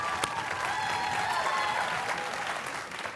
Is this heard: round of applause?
yes